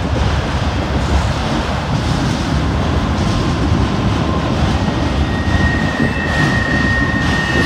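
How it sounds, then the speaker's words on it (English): Loud, continuous rumble and roar of a long freight train rolling past nearby in Greenwich, Ohio, steady throughout with faint metallic squeals high above. "It's a long train right here."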